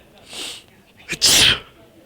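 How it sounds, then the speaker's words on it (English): A severe human sneeze: a short inhaling buildup, then a sharp, loud explosive burst up close, ending quickly with faint background noise. "I just have like this severe sneeze"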